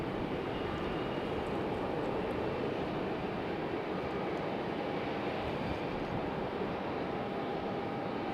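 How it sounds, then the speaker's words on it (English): An American Airlines jet touching down on the runway at Raleigh-Durham International Airport produces a steady, broad, unbroken roar that holds at constant loudness throughout, with no voices. "we do have another American Airlines about to hit the runway"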